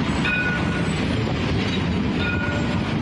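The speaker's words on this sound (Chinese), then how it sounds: "全台湾第一条环状轻轨高雄市轻轨已经在动态测试了" Kaohsiung's circular light rail train under dynamic testing rolls along a city street, giving a steady, close rolling rumble with faint high wheel squeals and no talk.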